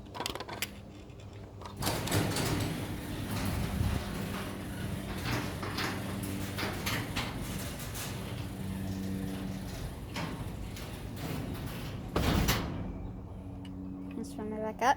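A lubricated garage door running down on its opener, a steady mechanical rolling and rattling hum with clunks at the start and near the end, heard close and continuous.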